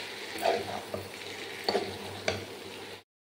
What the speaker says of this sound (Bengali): এবার লতি আর মশলাটা একটু ভালো করে নাড়িয়ে নেব।